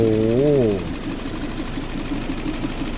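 A running engine idles smoothly: a low, even rumble that settles in after a short voice at the start and holds steady to the end.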